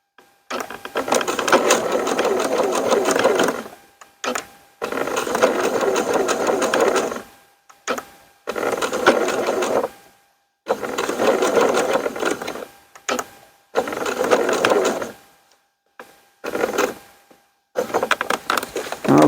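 Sewing machine stitching bridle tow loops onto a kite's keels, running in steady bursts of a few seconds each with short pauses between, close and fairly loud.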